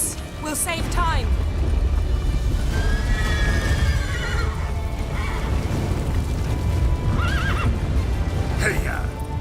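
A horse in The Witcher 3: Wild Hunt video game whinnies twice, with clip-clopping hooves under a steady loud rumble of game action and voices talking.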